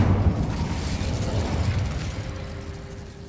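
A fire spell cast in Hogwarts Legacy bursts with a muffled low whoosh and crackle, steady and fairly loud across the moment, fading slightly toward the end.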